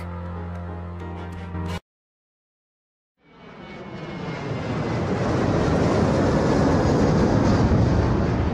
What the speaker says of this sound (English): Gabriel picks up his tickets at the airport and boards a plane for Munich.